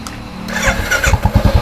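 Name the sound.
Royal Enfield Bullet 350 Classic motorcycle engine starting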